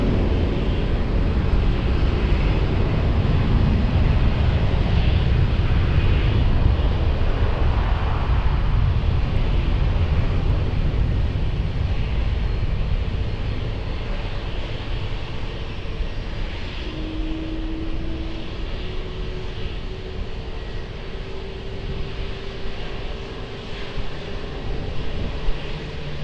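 An airliner takes off from runway 20 at Lisbon Airport, with a loud, sustained jet engine roar that builds at first and then slowly fades over nearly half a minute, with no voices.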